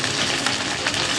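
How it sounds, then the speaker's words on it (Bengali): Ginger, garlic and chopped onion frying in oil, a dense continuous sizzle close to the pan, briefly and steadily crackling with no voices. "আদা রসুনটাকে একটু ভালো করে কষিয়ে নিচ্ছি যাতে কাঁচা গন্ধটা চলে যায়"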